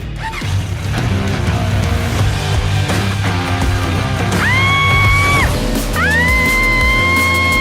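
A girl riding on a motorbike lets out two long, high screams, close and loud over a continuous dense rumble of engine and background noise.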